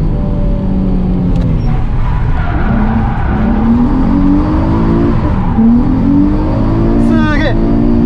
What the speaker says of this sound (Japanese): もういくらでも回転が上がっていく